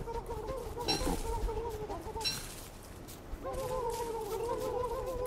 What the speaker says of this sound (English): Damn, three turkeys, man.